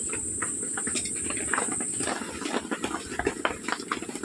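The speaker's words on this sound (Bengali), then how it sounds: "রসগোল্লা তৈরির জন্য আমি 5 মিনিট ফুটিয়ে নিচ্ছি" Rasgulla boiling in sugar syrup gives a soft, close bubbling patter with small pops that grow denser and more uneven toward the end, over a thin high-pitched whine.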